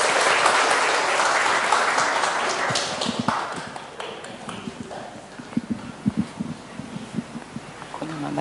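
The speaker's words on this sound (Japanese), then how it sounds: "まあ、拍手を持って。" Applause from a church congregation welcomes a returning guest, starting as dense clapping and thinning out into a few scattered, distinct claps at the end, with faint murmuring from the room.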